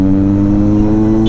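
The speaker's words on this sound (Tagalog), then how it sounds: "Pero kailangan mapalitan ko muna yung napakaingay niyang tambucho" A Vulcan motorcycle idles close by with a loud exhaust, putting out a steady, deep droning rumble that holds constant and stands alone.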